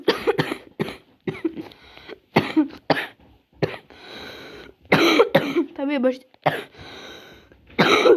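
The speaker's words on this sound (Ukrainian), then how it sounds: "цей кашель не проходить чогось" Repeated harsh coughs come in short bursts, mixed with a man's speech between them and a throat clearing near the middle.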